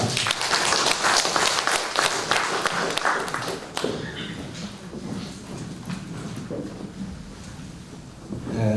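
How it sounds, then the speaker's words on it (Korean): Audience at a literary award ceremony applauds loudly and steadily for about four seconds, then the clapping thins into scattered, fading claps. "박수로 부탁을 드리겠습니다"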